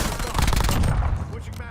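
Loud, rapid gunfire in a first-person shooter video game, a continuous dense burst of shots fading slightly toward the end, with no talk.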